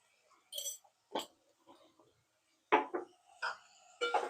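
Home-style fried rice being stirred in a pan, a few scattered scrapes and clinks of the utensil against the pan in short separate bursts, fairly close, with no talk.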